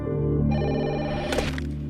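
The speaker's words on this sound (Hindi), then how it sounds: "फोन काटने के बाद भी कौन बार बार कॉल कर रहा है?" A phone rings with a steady electronic tone, growing brighter and busier partway through, loud and close, with no one speaking.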